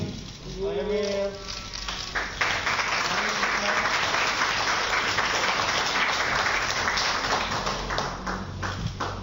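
A crowd at a Perindo party event in East Java backing a governor candidacy bursts into sustained applause. It starts under a brief voice, then swells into a loud, dense, continuous clapping that holds steady to the end.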